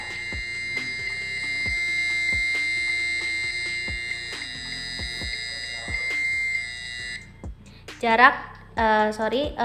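Electronic buzzer on an ultrasonic distance-sensor project with an LED sounds a steady, high, shrill tone for about seven seconds over faint regular clicks, then cuts off as voices are heard.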